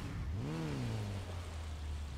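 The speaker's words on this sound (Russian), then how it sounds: "Давай вызовем мотоцикл" A motorcycle engine in Gotham Knights revs up in a single rising and falling sweep, then settles into a steady low hum. It is moderately loud and plays alone, with no voices.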